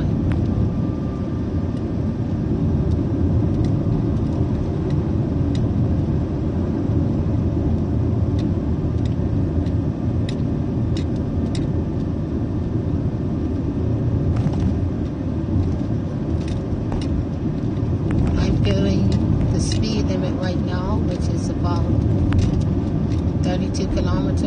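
A car driving along narrow, winding Bermuda roads at about 25 miles per hour, its steady engine and road rumble running continuously throughout, with a person talking over it.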